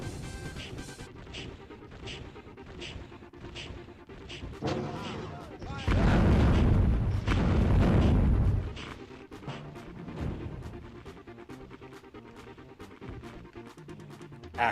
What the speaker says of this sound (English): The firebomb is a cooking man's rocket launcher.